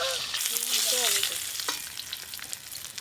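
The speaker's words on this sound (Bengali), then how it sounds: "ইলিশ মাছের মাথাগুলো লাল লাল করে ভেজে নিয়েছি, এবার তুলে নেব" Hilsa fish heads fry in hot oil, a dense, loud crackling sizzle that starts strong and eases slightly, with a few brief clinks and stirring scrapes up close.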